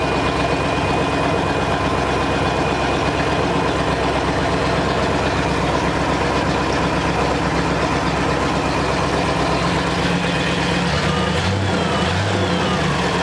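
A supercharged 1963 Studebaker Avanti R2 engine, running without an exhaust and not yet warmed up, idles steadily and close by, a low continuous rumble with a faint high whine; near the end the tone shifts briefly.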